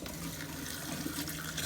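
Antifreeze flowing from the cold side of a sink faucet in a Jayco Jay Flight 33RBTS RV, a steady close splashing stream of liquid with no talk over it.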